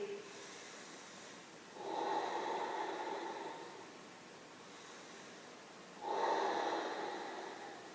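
Slow, deep yoga breaths, alternating long airy inhales and exhales, close and quiet, with no talking.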